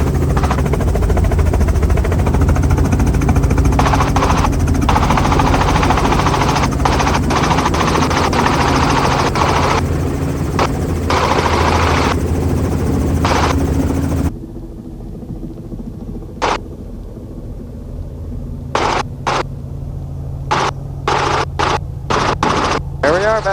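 A tour helicopter settling in to land near Cocoa Beach, its loud steady rotor and turbine roar filling the cabin before dropping away sharply, leaving a quieter whine broken by clicks and brief knocks.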